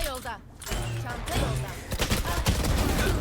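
Valorant gunfire: a loud, dense stream of rapid shots in close bursts, with a few sharper cracks near the end and a voice talking briefly early on.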